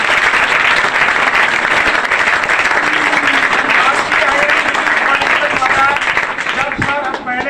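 Audience at a school toppers award ceremony applauding an assistant professor's welcome, loud dense clapping that holds steady and thins out near the end as a voice comes in.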